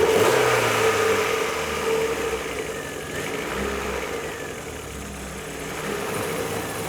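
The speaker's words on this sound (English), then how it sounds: "it's clear to see that Kevin's Golf isn't too happy about starting up" A classic Volkswagen Golf engine runs roughly after a reluctant start, a loud nearby uneven idle with wavering revs that sag and recover, and no talking.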